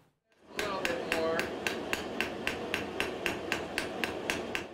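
A blacksmith hammers metal in a steady, even rhythm of sharp ringing strikes, about three per second, close and loud with no talk over them.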